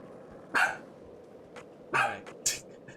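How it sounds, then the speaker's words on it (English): A pet dog barks indoors at someone heard outside, three sharp barks spaced about a second apart, fairly close and loud over a quiet room hum. "My dog is barking."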